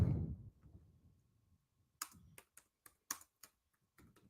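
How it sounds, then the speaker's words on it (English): Computer keyboard typed on with one hand: a few scattered, crisp key clicks spaced unevenly, close and fairly quiet, following a low rumble at the start. "I'm typing with one on there."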